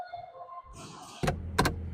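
Getting into a car: a faint power window motor whir, then a rustle and two sharp door thumps close by.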